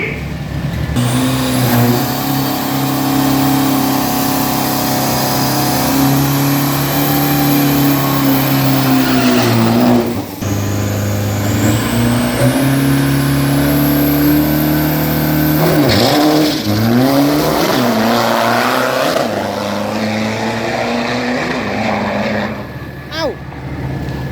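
Drag race car at full throttle on a Bangkok drag strip, engine note holding steady then climbing through gear changes around 10 and 16 seconds, loud and close with crowd and announcer voices underneath.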